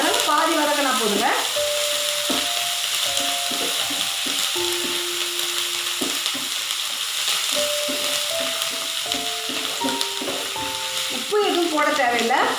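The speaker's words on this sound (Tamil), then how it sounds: "சும்மா லைட்டாக வதக்கினா போதும்" Delonix elata leaves are lightly sautéed in a pan, producing a steady sizzling hiss with occasional stirring knocks under a gentle melodic music bed.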